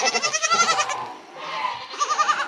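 Newborn twin baby goats bleat in a goat nursery pen, several short wavering cries in quick succession close by, a brief lull, then another rapid run of bleats.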